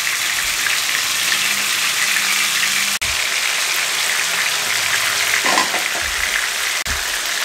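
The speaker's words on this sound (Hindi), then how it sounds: "मीडियम फ्लेम पे हम इसको इसमें फ्राई करेंगे 8 मिनट" Chicken tikka pieces frying in oil on a medium flame, a loud continuous hiss and crackle held close, broken by two sharp brief clicks and a short low knock near the end.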